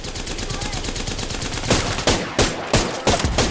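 Video game gunfire: a steady stream of rapid automatic shots, then several loud, close bursts separated by short pauses.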